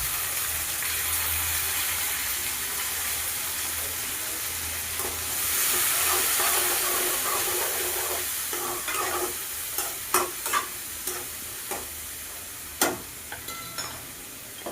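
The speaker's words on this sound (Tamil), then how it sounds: "3 பழுத்த பெரிய சைஸ் தக்காளி பழம் போட்டு நல்லா வதக்கிக்கலாம்" Onions and three large ripe tomatoes sauté in a pan for a village-style mochai bean kuzhambu. A steady close sizzle runs throughout, and in the second half a spoon stirs with sharp, irregular scraping knocks.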